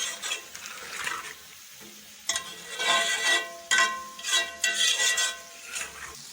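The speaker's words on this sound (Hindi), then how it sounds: "अब इन तमाम मसालों के साथ गोश्त को अच्छी तरह से भून लेंगे और साथ साथ टमाटर भी गल जाएंगे।" Meat browning in a pan with spices and tomatoes while okra fries, with stirring, scraping of utensils against the pot and a steady sizzle that swells and fades in bursts over quiet music.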